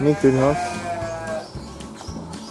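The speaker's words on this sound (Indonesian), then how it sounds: "Itu belakang itu ada kambing lagi tuh." A goat bleats nearby at an agritourism farm in Surabaya, one wavering, quavering cry at the start, followed by a person speaking over faint background noise.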